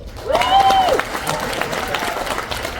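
A cruise ship show audience breaks into applause, a dense wash of clapping with some cheering, loudest at first then settling, while a voice speaks briefly over it near the start.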